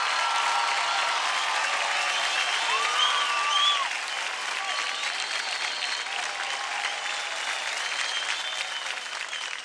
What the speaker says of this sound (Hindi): जोरदार तालियां हो जाए पृथ्वी और विवेक के लिए